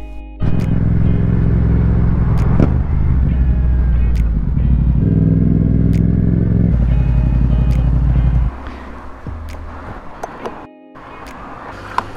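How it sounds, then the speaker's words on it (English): A Yamaha XSR700 motorcycle rides out on a test ride, its engine rumbling loud and steady with shifts in pitch as it accelerates, then dropping to a quieter idle-like drone near the end. "now we're gonna go for a test ride"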